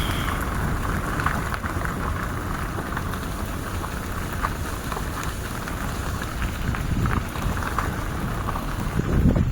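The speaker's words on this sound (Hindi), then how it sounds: "बारिश।" Steady light rain falling on surfaces on a village road near Shimla, a constant hiss with a low rumble underneath and no voices.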